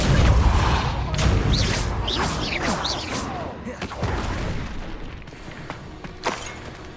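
Magic spell effects from the video game Hogwarts Legacy: a deep boom followed by whooshing swishes and crackling bursts, loud and layered over continuous game ambience.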